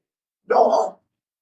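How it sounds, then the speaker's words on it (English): One dog barks once, a single close, loud half-second bark in otherwise silent surroundings. "Man, these dogs are going crazy."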